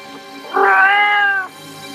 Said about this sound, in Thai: มันอาจเป็นแค่แมว